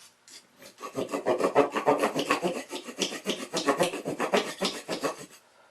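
A KCCEDGE tactical knife scrapes and cuts into wood in quick, rhythmic rasping strokes, close and fairly loud, repeating steadily for several seconds with no voices.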